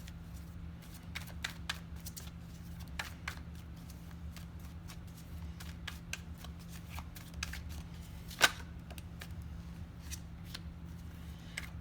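Tarot cards riffle and shuffle during a reading: a steady series of crisp, quiet card flicks close to the listener, with no talk over them.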